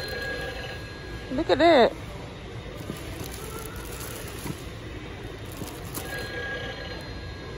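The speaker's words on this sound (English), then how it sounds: "I hit the phone and Santa Claus started talking through the phone." A Santa Claus novelty Christmas telephone on display at a Lowe's store gives a short, loud warbling electronic ring. Quiet store ambience follows, and a person speaks briefly.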